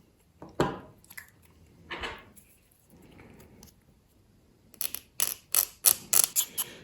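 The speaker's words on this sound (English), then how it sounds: "I'll just scrape this edge down" A blade scrapes down the edge of a 1/200 scale model battleship part in short, close, dry strokes: a few isolated scrapes, then a quicker run of sharp rasps.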